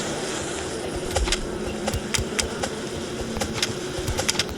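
Steady buzzing of bees in the video game 99 Nights in the Forest, a continuous insect drone with faint clicks and ticks scattered over it, moderately loud and without talk.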